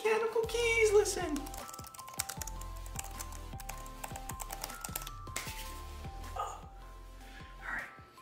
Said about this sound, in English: it's the mechanical keys, listen.